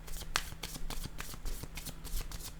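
Cards being shuffled for a card reading, a quick run of crisp riffling flicks at close range, quiet and without talk.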